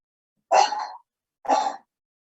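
Two short, harsh coughs about a second apart, close and clear against silence.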